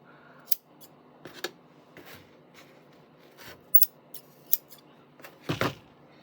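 Scissors snip through strands of yarn: several quick, close, crisp cuts spaced irregularly, with soft handling rustles between them and a final cluster of snips.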